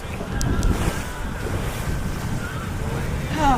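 Steady wind of about 15 knots buffets the microphone while a sailboat crosses the Strait of Gibraltar, with a constant rush of waves and water along the hull and no break in the noise.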